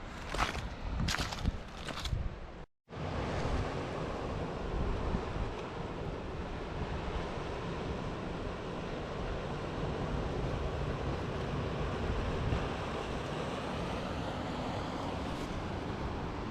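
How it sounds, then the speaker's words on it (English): Sea waves roll in and break against rocks along the Scottish coast, a continuous loud wash of surf with wind noise, after a few brief rustles at the start. "It's so cool to see these waves rolling in, to hear them hitting the rocks."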